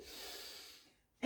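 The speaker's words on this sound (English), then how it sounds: "And one more, guys. Breathe in deeply" A long, steady breath drawn in during an exercise class, a soft airy rush lasting most of a second, then fading to near silence before a brief louder burst at the end.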